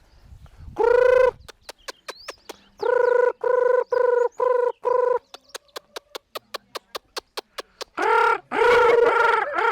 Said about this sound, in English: Let's call the chicken.